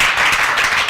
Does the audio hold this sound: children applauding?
yes